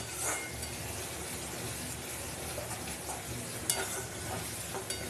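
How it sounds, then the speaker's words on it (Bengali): Spice paste being stirred and fried in a pan for a fish curry, a faint, steady sizzle with occasional soft scrapes, quiet and without speech. "মশলাটাকে কষানো মানেই তো মশলাটা ভালো করে ভাজা এরকম একভাবে নেড়ে যেতে হবে মশলাটা"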